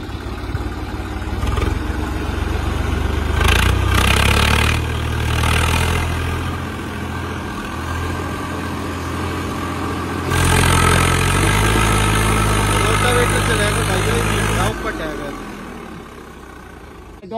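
A Swaraj 855 tractor engine runs steadily while pulling a 9-foot rotavator through heavy soil, a loud continuous rumble that swells at times, with voices talking over it.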